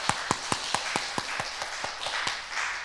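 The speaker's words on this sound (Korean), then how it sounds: "박수를 한번 드리겠습니다." Church congregation clapping together in a steady rhythm of sharp, evenly spaced claps that loosen into scattered applause, moderately distant in a hall.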